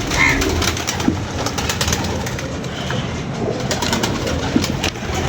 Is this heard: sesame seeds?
no